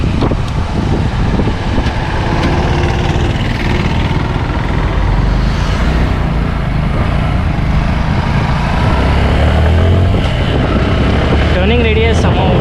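A Suzuki Gixxer SF 150 BS6, a 155cc motorcycle, runs steadily during a test ride in third gear at around 5000 rpm, a constant loud engine drone mixed with heavy wind rush throughout.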